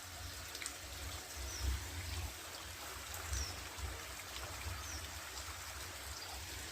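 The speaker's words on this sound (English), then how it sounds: "The water's just flowing down, and it's like a little creek running this way" Water trickles steadily down an abandoned highway tunnel in Pennsylvania like a little creek, a constant soft wash with occasional louder splashes and low rumbles, heard alone without talk.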